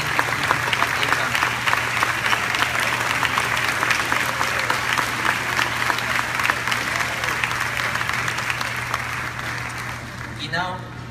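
A standing gala audience at CCC's Defying Gravity Gala applauds to thank former teachers, a loud, sustained wash of clapping from a large crowd that fades slightly near the end, with faint voices underneath.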